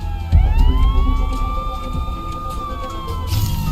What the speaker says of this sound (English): Meanwhile, I heard the police sirens drawing nearer.